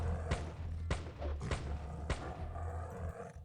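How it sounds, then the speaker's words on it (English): Gunshots fired in the RPG Arcanum, several sharp cracks at irregular intervals over a steady low rumbling game soundscape, loud and close. "I think gunshots are preventing hearing my speech."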